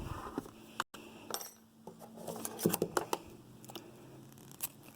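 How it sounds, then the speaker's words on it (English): Scissors snip through a knitted yarn tail on a comb-knitted bracelet, giving a few close, crisp clicks and small metallic ticks scattered over a quiet background with no talking. "And snip off the tail."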